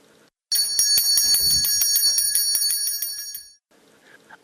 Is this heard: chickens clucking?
no